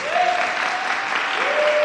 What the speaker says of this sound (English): can we just give all the graduates a rousing round of applause?